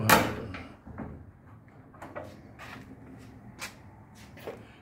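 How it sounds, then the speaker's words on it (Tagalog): An apartment door opens in a short close clatter at the start, followed by softer shuffling and light knocks and clicks as it swings, with no talking. "Buksan natin ang pinto."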